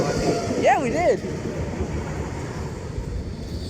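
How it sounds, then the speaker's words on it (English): Nottingham Express Transit tram 214 pulls away toward Clifton South at Basford, giving a brief rising and falling motor whine over steady rumble, with people talking nearby. "214 is now departing with Nottingham Express Transit, so it's to Clifton South."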